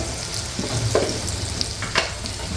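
Spiced potato filling for vada pav being stirred and sautéed in a hot pan, with continuous sizzling and scraping spoon strokes in short bursts, close and fairly loud, no voices.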